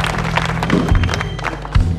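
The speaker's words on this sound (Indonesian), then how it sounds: "Wah, kita beri tepuk tangan." Audience applause at an Indonesian community gathering, a dense, steady wash of clapping from a crowd lasting throughout, with a couple of low thumps in between.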